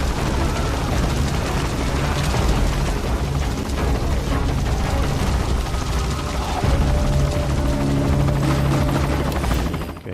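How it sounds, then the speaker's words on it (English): A hostile helicopter in the stealth action game Metal Gear Solid 5 roars steadily and loud throughout, a dense rotor drone layered over rumbling booms and blasts, with no talking. "that is not our helicopter, that's actually an enemy"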